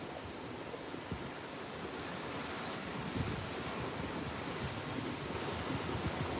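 Small surf waves on Padre Island along the Texas Gulf Coast, a soft, steady wash of water with gentle swells and some wind, moderate and continuous with no voices.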